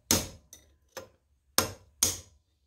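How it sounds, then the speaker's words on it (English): Five sharp metallic taps from a small hammer on a metal punch, removing Farmall Cub tractor front wheel bearings, spaced unevenly and ringing briefly, close and isolated. "You can do this with just a little small hammer."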